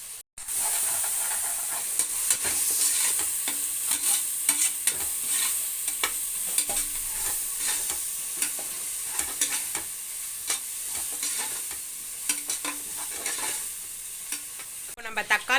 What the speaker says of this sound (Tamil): இஞ்சி பூண்டு பேஸ்ட் சேர்த்த பிறகு பச்சை வாசனை போகிற வரைக்கும் நல்லா வதக்கணும்.